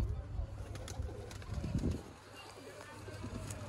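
Pigeons of a Teddy breed kept in a rooftop loft coo softly in low repeated murmurs, with a louder burst midway, under a faint background hum and someone talking nearby.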